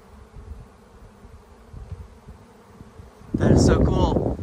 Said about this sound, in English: Yep, swarm of bees.